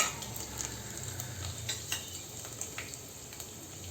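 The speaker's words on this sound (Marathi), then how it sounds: "दालचिनीचे तुकडे थो छोटे छोटे आणि लवंग घालत आहोत आता हे थोडंसं परतून घेऊया" Small cinnamon pieces and cloves sautéed in a pan for coconut rice over low heat, giving a faint, steady crackling sizzle with a few light ticks from the utensil, quiet and unbroken.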